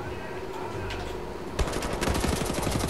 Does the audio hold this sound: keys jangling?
no